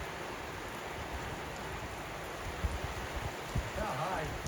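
Steady hiss of rainfall filling the background, with a few faint patters and low rumbles, no talking.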